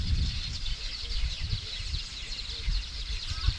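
Several bird species, weaver birds among them, chirp and call outdoors in an area birds favour: faint, busy overlapping tweets over a low rumbling background, with soft voices now and then.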